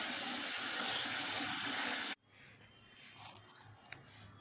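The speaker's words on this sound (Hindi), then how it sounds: "तो फ्रेश पानी से धोऊंगा मैं।" Amla gooseberries rinsed under a strong stream of fresh running tap water, a loud continuous gush that cuts off abruptly halfway, leaving faint splashing and handling noises.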